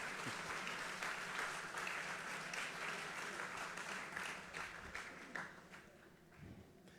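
Sustained applause from the audience at a Formula SAE awards ceremony in Lincoln, a dense crowd of clapping hands filling the hall, gradually thinning and fading out over several seconds.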